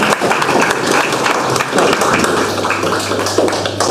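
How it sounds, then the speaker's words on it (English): An audience applauds a guest speaker at a finance talk, a loud, busy burst of clapping lasting a few seconds with a dense, close texture and some murmuring underneath. "So with a round of applause, I'll pass the floor to our speaker today"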